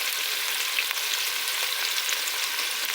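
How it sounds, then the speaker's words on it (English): Chopped onions sizzle and fry in a pan for an okra stew, a steady bright crackle heard up close with no talking. "So now we will turn the onion"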